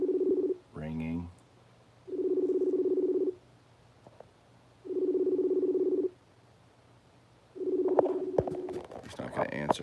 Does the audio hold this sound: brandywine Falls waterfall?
no